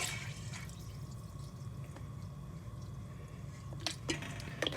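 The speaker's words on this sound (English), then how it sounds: "And then I'm going to put a half a quart of regular tomato juice in." Regular tomato juice is poured into a pot of Maryland crab soup, making a faint, continuous liquid splash and trickle that briefly grows louder toward the end.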